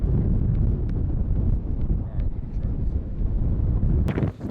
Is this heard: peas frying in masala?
no